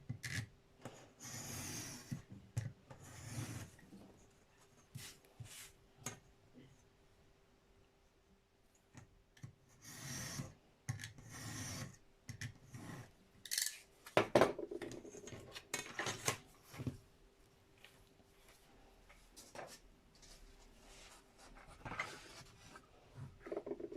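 Cutting strips of material for linocut print registration: scattered short, dry cuts and snips in bursts, close and fairly quiet, with light handling noises in between and no talk.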